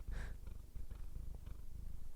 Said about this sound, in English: Can you purr into the microphone?